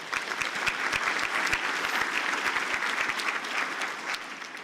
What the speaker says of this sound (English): something that deserves a round of applause